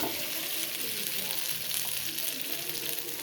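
Rava adai batter sizzles steadily on a hot dosa griddle, a continuous soft crackling hiss heard up close with no talking.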